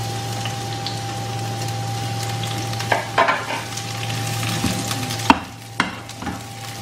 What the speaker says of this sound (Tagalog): Una po natin ipo-fry itong onion.